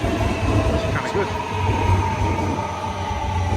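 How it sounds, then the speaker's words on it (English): Train passing on a Melbourne metro or V/Line rail track, a steady low rumble and rolling drone that holds throughout at moderate loudness, with faint voices in the background. "So, yeah, this is a train service."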